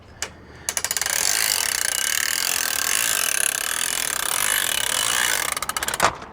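A Jayco manual caravan awning is pushed back to closed. Rapid ratcheting clicks lead into a steady, loud rolling rush, and more clicks and a knock come at the end, close by with no talking.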